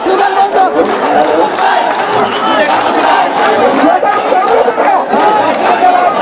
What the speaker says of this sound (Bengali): বন্ধ করো, স্লোগানটা বন্ধ করো, প্লিজ স্লোগানটা বন্ধ করো